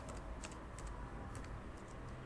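Keys clacking on a computer keyboard while text is entered into a web-design program, a few quick bursts of taps with short gaps, close and alone over a steady low room hum.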